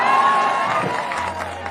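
A crowd at a live stage show in Bihar cheers and applauds, a dense burst of noise with whoops that thins out over a couple of seconds.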